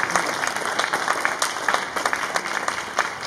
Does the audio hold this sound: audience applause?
yes